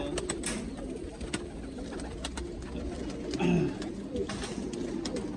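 Pigeon cooing softly in a short phrase over steady outdoor background noise, with other faint bird sounds around it.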